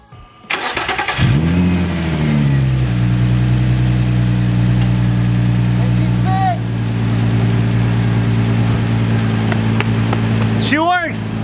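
A Nissan 350Z engine, after a camshaft position sensor replacement for a P0340 code, cranks and catches, then settles into a steady, rumbling idle up close, with a couple of brief high squeaks partway through.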